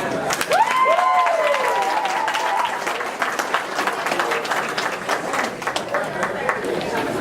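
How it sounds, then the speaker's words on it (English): Wedding reception guests applaud in a hall, sustained clapping and cheering filling the room, with a few whoops and calls rising over the crowd early on. "How about a round of applause for him?"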